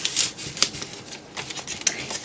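A paper music page being folded in half and cut: soft, close crinkles and a few light crisp snips and rustles, faint and irregular.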